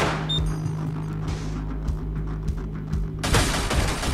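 Gunfire in the video game Receiver crackles as a steady string of close shots over a humming background, followed by a louder, brighter burst near the end.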